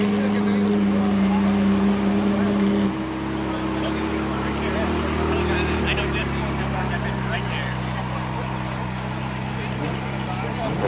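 A modified car's engine idling at a cars-and-coffee autocross event in Texas, a loud, steady low rumble that drops slightly in level after a few seconds and then carries on evenly beneath outdoor background noise.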